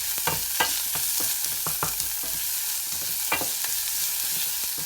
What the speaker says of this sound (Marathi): एक कांदा कापून घेतलेला आहे, ते टाकायचं, मिक्स करून घ्यायचा।